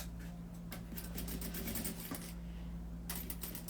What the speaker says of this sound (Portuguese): E aí eu vou começar a costurar, tá?